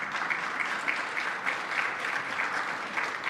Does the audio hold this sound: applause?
yes